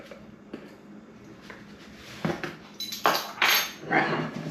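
Candied pecans are mixed in a bowl with a utensil, giving quiet scattered taps at first, then louder clinks and scraping rustles that come in bunched bursts toward the end.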